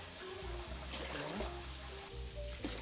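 Water poured into a Staub pot for yellow rice in a home kitchen, a steady trickling and splashing stream running close by for a few seconds with low background hum.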